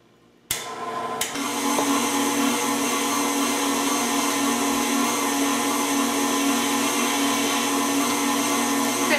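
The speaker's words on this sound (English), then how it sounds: "I'm going to put them in my mixer here. I'm going to put it on medium speed for about 2 to 3 minutes." A stand mixer churning pumpkin cupcake batter on medium speed starts up with a sudden jolt and then runs as a loud, steady motor whir with a constant hum, uninterrupted and without any talking.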